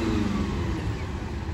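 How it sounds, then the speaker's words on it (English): A vintage lorry's two-stroke engine revving at a steam rally: a steady, rumbling mid-range engine drone heard nearby, with a little outdoor background noise. "Two-stroke engine, absolute."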